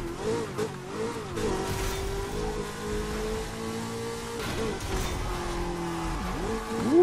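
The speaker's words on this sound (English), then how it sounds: "There's a little bit of a drift going on." A car drifting in Burnout Paradise Remastered, engine revving with rising and falling pitch and tire squeal, steady and close, with background game music.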